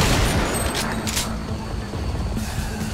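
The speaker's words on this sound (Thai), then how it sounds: "ยิงลูก RPG ลอยมา" An RPG rocket fired in the Silent Scope 3 sniper shooting game: loud, continuous explosive rumble and gunfire-like bursts fill the whole clip, with a game voice faintly mixed in.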